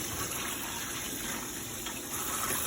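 Cabbage leaves are rinsed under a running kitchen tap, with a loud, steady gush of water splashing continuously and close up, no voices.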